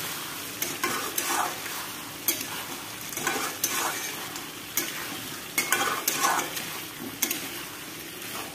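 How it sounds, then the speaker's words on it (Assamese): Steady sizzling as potatoes fry with duck meat and spices in a pan, with repeated scraping and stirring strokes every second or so, close by and fairly loud. "এতিয়া মই আলুখিনি ভালকৈ মিলাই ল'ম মছলাখিনি আৰু মাংসখিনিৰ লগত অকণমান সময় ভাজি থাকিম"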